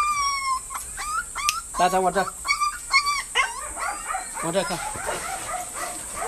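A golden retriever of dual show and field lineage whimpers and yips in short, high, close bursts, with a person speaking over it.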